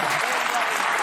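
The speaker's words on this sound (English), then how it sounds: "The studio audience gasped, and then a wave of applause erupted." A studio talk-show audience bursts into a wave of applause, dense and loud from start to finish in a short burst.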